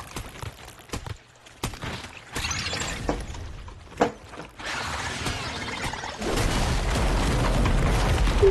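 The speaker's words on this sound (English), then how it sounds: "Blow up this egg." An egg blown up in the video game Once Human during a solo boss fight, heard as loud mechanical clanks and sharp shattering hits, then a sustained rumbling blast that swells and holds toward the end.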